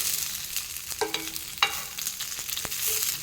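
Pathrode slices frying in hot oil give a close, continuous crackling sizzle. A few faint scrapes and clinks of a utensil against the pan come and go, and no one speaks.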